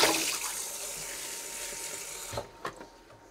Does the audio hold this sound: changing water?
yes